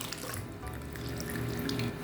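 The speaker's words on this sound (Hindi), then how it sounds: "अंदर पानी ऐड कर देते हैं" Water is poured into a pot of chicken daleem, a lentil-and-chicken stew, giving a close, continuous splashing gush that rises slightly toward the end.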